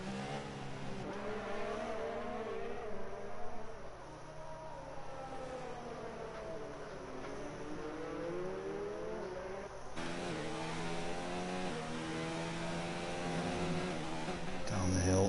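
F1 cars, including a Ferrari, race at the Brazil round of a Formula 1 video game league. A continuous high engine whine rises and falls through gear changes, with a sharp shift near the end of the run and no talking.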